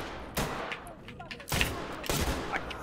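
Gunfire in a multiplayer video game crackles in a few short bursts over a steady background, with voices talking over the shots.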